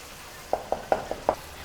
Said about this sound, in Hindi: अब हम इन स्पाइसेस को अच्छे तरीके से भून लेंगे।